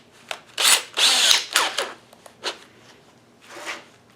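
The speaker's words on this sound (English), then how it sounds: "I'm going to use one of these handy little step drills from Harbor Freight." A Harbor Freight step drill bit grinds through metal on a custom gas-powered tricycle build, with loud whining bursts of drilling that start and stop in uneven pulses.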